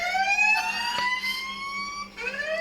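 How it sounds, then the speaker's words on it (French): A loud electronic fire alarm in a Roblox game wails with rising, sweeping tones, briefly dipping before sweeping up again, with no voices. "Vous entendez ça? C'est l'alarme incendie."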